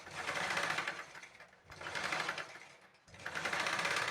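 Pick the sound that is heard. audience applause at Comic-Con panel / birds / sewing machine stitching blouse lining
sewing machine stitching blouse lining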